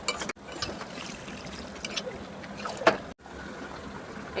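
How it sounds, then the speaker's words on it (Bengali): Water is poured into a pan of echor chingri, a prawn curry, making a steady splashing rush that runs for several seconds with a brief break partway through. "এবার জল দিয়ে দেবো"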